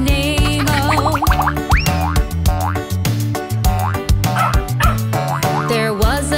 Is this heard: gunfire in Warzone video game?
no